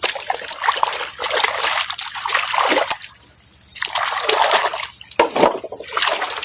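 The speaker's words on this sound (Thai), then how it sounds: "จะไปล้างกันนะครับไปล้างน้ำอีกทีหนึ่งให้สะอาด" Water chestnut tubers being washed by hand in water, with repeated splashes, sloshing and trickling in irregular bursts, close and fairly loud.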